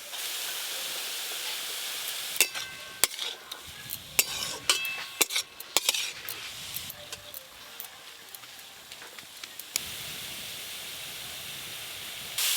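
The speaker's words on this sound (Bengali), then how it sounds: "এই পেঁয়াজ কুচি আর মূলো শাক একসঙ্গে ভালো করে ভেজে নেব" Chopped onion and radish greens fry together in a pan for a Bengali greens dish, giving a steady close hiss broken by a run of sharp metal clinks and scrapes from stirring in the middle stretch.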